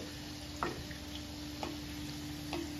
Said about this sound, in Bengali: তো চলো এটাকে এখন ভেজে নেওয়া যাক